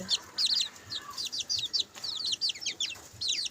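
Small pet chicks, recently taken from the mother hen, chirp rapidly in high overlapping peeps close by, with a few soft clucks underneath.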